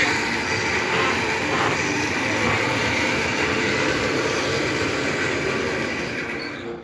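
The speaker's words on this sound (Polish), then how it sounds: "I tak się prezentuje pociąg pancerny wersja jeżdżąca Bałtycki" An H0 scale cardboard model armored train runs along its rails, giving a steady, dense whirring rumble that holds even throughout and fades slightly at the end, with no voices.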